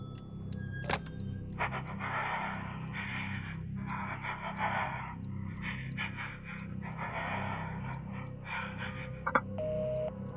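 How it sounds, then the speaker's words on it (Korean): Shaky, trembling breathing heard over a phone in a horror video game repeats in a steady rhythm of ragged breaths over a low electronic hum, with a couple of faint clicks. "전화 안쪽에는 덜덜 떠는 숨소리가 들려오는데"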